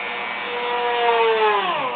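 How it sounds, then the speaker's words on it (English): A small drill bores a little hole into a hand-carved wooden hiker figure, giving a steady, close motor whine whose pitch wavers and dips slightly toward the end, with no voices. "And just drill a little hole."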